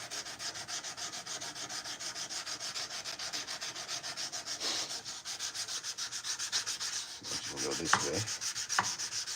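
Hand sanding a knife blade crossways with 220 grit abrasive, a steady rhythmic rasping scrub of strokes back and forth, close and continuous, with a few brief spoken words near the end.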